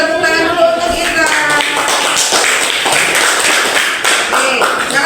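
A school classroom of eighth-grade students clapping together, a dense burst of hand claps lasting around five seconds, loud and close, with some voices mixed in.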